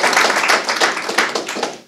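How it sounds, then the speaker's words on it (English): A crowd claps in a dense, lively burst of applause, close and loud, with no voices over it. "another round of applause for Orin for taking the time."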